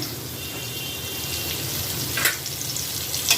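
Pointed gourd fries in oil with a steady, moderate crackling sizzle, broken by a couple of sharper spits and pops near the end, with no voices.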